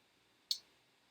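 A single crisp mouse click on a computer, one short quiet tick alone in near silence.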